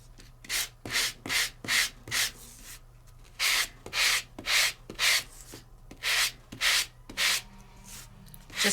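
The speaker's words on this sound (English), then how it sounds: "Just give them a good sanding." A hand sanding tool rubs across die-cut craft elements in short, regular scratchy strokes, about a dozen close bursts in quick rhythm with brief pauses between groups.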